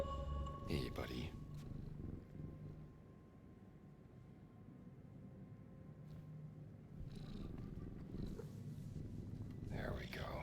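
A cat purrs steadily as it is petted in the video game Indiana Jones and the Great Circle, a low soft rumble running under a talking voice, with a few brief clicks and rustles.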